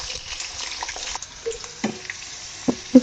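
Two chopped onions fry in a pan for keema matar, giving a soft, close sizzle with scattered crackles and a few louder clinks or pops toward the end.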